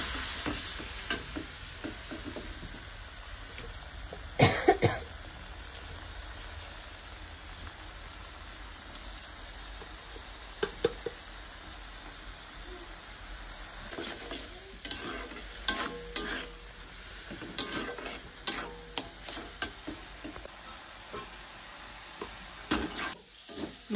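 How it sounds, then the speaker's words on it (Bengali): A spice paste of ginger, garlic, cumin, a little onion and chili fries in a pan with a soft continuous sizzle, while a spoon stirs and scrapes in scattered bursts, close and fairly quiet with no talk. "মশলাটাকে ভালো করে কষিয়ে নেব।"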